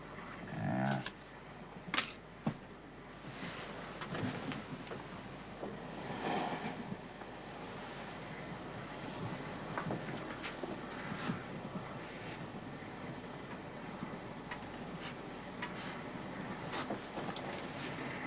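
Inside a moving train, a low steady rumble of the carriage runs throughout with scattered knocks and rattles, fairly quiet, while voices talk intermittently over it.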